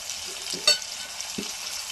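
Onions and ginger garlic paste frying in a pan, a faint steady sizzle with a couple of brief clicks from stirring.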